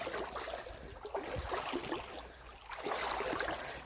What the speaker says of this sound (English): It's really peaceful here. You can just hear the